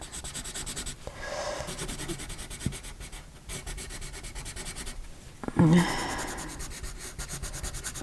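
A colored pencil rubs back and forth across paper, making soft, scratchy strokes in quick repeated bursts with a couple of brief pauses, heard up close and alone.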